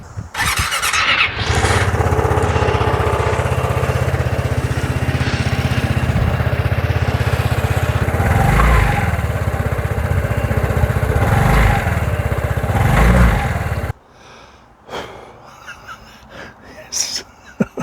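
A Vespa GTS 300 scooter, just repaired, starts up and idles loudly up close with a steady engine drone and a few revs, then cuts off abruptly. People talk over it.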